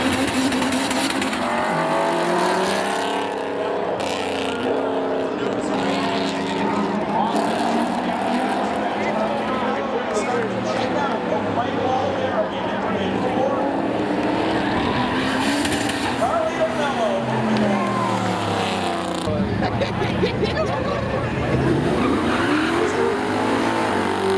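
Race cars roar around Seekonk Speedway on an Independence Day weekend, with continuous loud engine drone and pitch sweeps as cars pass. An announcer calls the action over the noise throughout.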